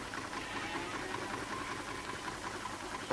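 A tractor engine, its sooty fuel injectors just cleaned, runs at a quiet, steady idle, a faint, even mechanical hum with a fine rattling texture and no voices over it.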